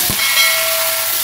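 Chicken browning in butter and oil in a pan, a loud steady hiss of sizzling fat that holds close and even for the whole short moment.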